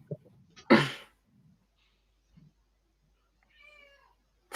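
A cat gives a single soft meow near the end, after a brief loud burst and some low rustling in an otherwise quiet indoor setting.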